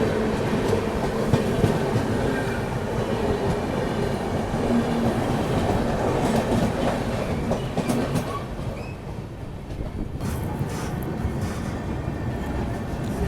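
Passenger train, the Swarna Jayanti Express, arriving at Tundla station in India, heard from on board: a continuous loud rumble of carriages and wheels on rails, with some rhythmic clatter and a faint voice in the background.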